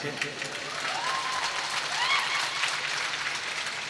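Audience applause at a comedy show in Bihar, a steady wash of clapping with a voice and whistle-like tones over it, at moderate level.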